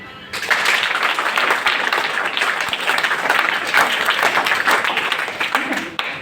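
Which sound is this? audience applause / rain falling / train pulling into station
audience applause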